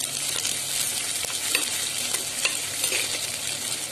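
Curry leaves crackle and sizzle in hot oil in a pan for a Tamil fish curry gravy, with busy, close scraping stirs and spatters throughout.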